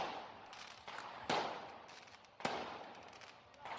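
Fireworks bursting over Pistoia, Italy, two sharp loud bangs standing out above a steady crackling, rumbling backdrop of more distant explosions.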